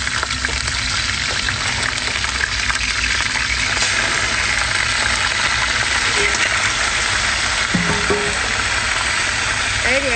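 Seafood such as lobster, scallops, conch, crab, octopus and prawns sizzles and crackles steadily in a hot frying pan, a constant close frying hiss throughout with a few faint clinks near the end.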